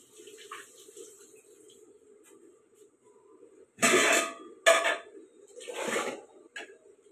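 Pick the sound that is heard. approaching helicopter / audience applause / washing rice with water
washing rice with water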